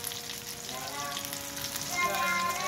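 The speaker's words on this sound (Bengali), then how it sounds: "দুই ব্যাচে ভাজতে হচ্ছে।" Chicken pieces frying in hot oil in a second batch, giving a steady close sizzle with faint crackles that grows slightly louder toward the end.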